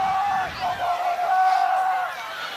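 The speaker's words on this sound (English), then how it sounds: "this is YK cheering, because KVIKS is catching up" Team supporters at a canoe paddling regatta cheer and shout together, several voices rising and falling in a tonal chant-like yell for a couple of seconds, fairly near.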